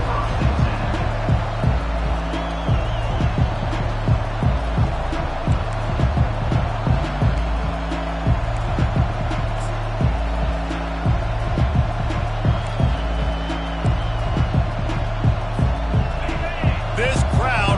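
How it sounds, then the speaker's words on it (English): A stadium crowd in the Madden football video game roars with a loud, continuous wall of noise, with a commentator talking over it throughout. "This crowd bringing an ear-splitting welcome to their visitors"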